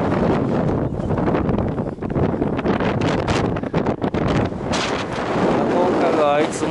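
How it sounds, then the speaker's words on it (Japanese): Strong wind buffets the microphone in steady, loud gusts that roar throughout, with a faint rushing texture beneath, at Aconcagua's Plaza de Mulas base camp, 4350 m. "今回はいつもの強風"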